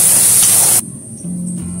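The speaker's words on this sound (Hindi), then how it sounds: "ये कटे हुए प्याज हम ऐड कर रहे हैं।" One large chopped onion frying in a pan for a paneer kofta gravy gives a loud, steady sizzling hiss for under a second, then drops to a quieter low hum.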